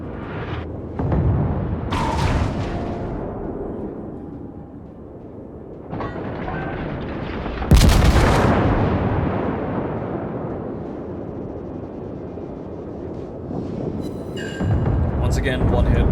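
Naval guns firing and shells landing in the World of Warships game, with Dunkerque and Strasbourg battleships and a Mogami cruiser: heavy booming blasts and rumbling impacts recur across the battle, mixed with ongoing speech.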